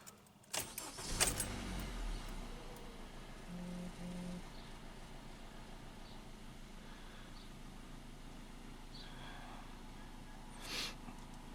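A 2017 Honda Civic engine cranks and catches with a sharp burst, then settles into a quiet, even idle that runs steadily, with a faint clunk or two nearby.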